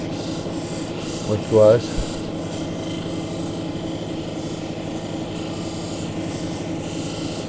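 A white Lake Superior agate cabochon is ground on a wheel with a steady, close rubbing rasp throughout, and a brief louder scrape near the start. A voice speaks a single word.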